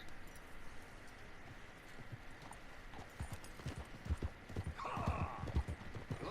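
Horse hooves in the video game Red Dead Redemption 2 clop in a steady trotting rhythm, growing louder and closer, with a brief whinny partway through over low background ambience.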